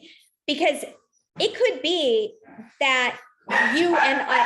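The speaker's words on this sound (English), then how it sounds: "oh, sorry about the barking." A dog barks and whines in short bursts close by, its yelps mixed with a lecturer's speech during an online talk.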